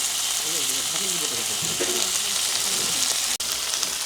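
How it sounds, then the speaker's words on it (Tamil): Onions and curry chillies are stirred and sautéed in a pan, giving a constant loud sizzle while a voice talks over it. "இப்படியே நல்லா பிரட்டி விடுவோம் வெங்காயம் கொஞ்சம் பதம் கட்டுக்கும் எங்களுக்கு"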